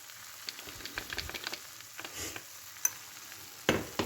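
A grated fresh coconut barfi mixture with sugar and cardamom powder is stirred in a pan, with soft sizzling and intermittent scraping strokes, a louder clank near the end, no talking.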